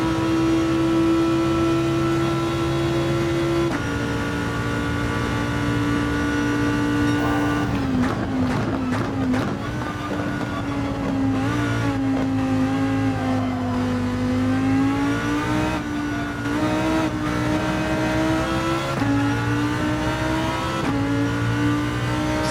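Lamborghini GT3 race car engine at full throttle in Gran Turismo 7, a loud sustained high-pitched roar with rising revs and gear shifts, continuous throughout, no talk.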